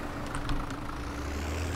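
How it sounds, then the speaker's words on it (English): A tractor idles steadily in Farming Simulator 17 on the Sosnovka map, a low, even engine hum that holds at a moderate, unchanging level throughout. "I do like the sound of this tractor"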